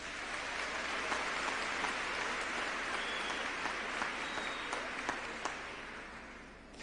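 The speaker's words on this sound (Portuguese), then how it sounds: "Gente, aplaude um negócio desse." A church congregation applauds during a sermon in a steady, dense wash of clapping that holds at an even level before easing off slightly at the end, heard from some distance.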